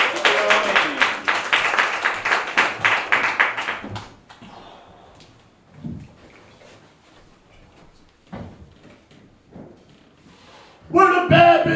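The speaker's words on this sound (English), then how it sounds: "start clapping right now" A comedy club audience in Bushwick bursts into rapid clapping for about four seconds, then it fades to scattered noise and thumps before a loud shout of crowd noise returns at the end.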